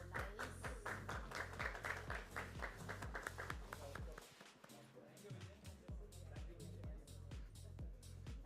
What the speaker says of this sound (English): Huge round of applause for this breakthrough MOU